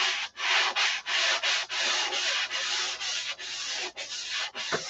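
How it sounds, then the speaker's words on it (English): Steady, close-up rasping of sandpaper rubbed by hand over a wooden SIG Magnum gun grip in a run of repeated strokes, each separated by a brief pause. "I can hear the tone change when it's time to stop sanding."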